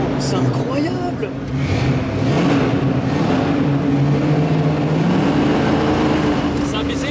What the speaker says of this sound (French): on va ouvrir les vitres parce qu'il y a un tunnel et on va vous faire kiffer le bruit de cette voiture